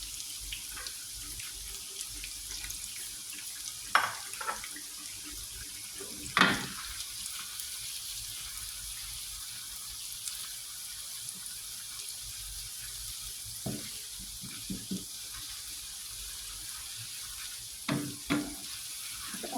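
Shallots fry in hot oil, a constant close hiss running throughout, broken by occasional scraping knocks as they are stirred in the pan.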